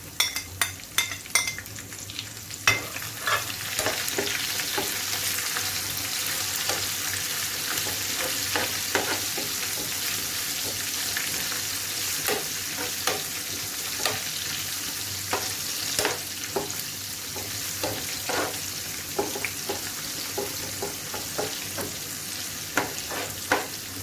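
Oil sizzles and crackles steadily in a pan as cumin and green chillies fry for a tadka, with frequent sharp spatters and occasional scrape of a spoon stirring, close by and without talk.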